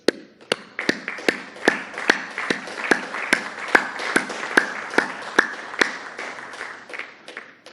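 At an AMLO political rally in Tecuala, Nayarit, sharp, evenly spaced claps ring out about twice a second, a slow rhythmic beat over a faint background murmur from the crowd.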